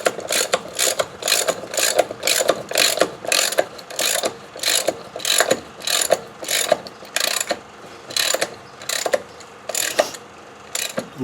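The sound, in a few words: hand ratchet cranking bolt to break tire bead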